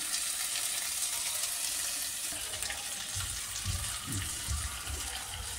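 Masala stuffing fries with onions and curry leaves for an eggplant curry, a constant loud hiss and sizzle filling the pan, with some low thumps of stirring near the end.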